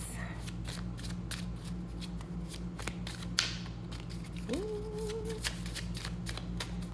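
Tarot cards are shuffled in hand, giving a steady run of soft riffling flicks and taps, quiet and close, with a brief tonal sound partway through.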